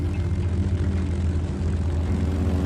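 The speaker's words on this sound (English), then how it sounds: "The floats attached, and the Seiran launched into the air." A Seiran floatplane launching from a Japanese submarine carrier, its propeller engine a loud, steady low drone with no break across the moment.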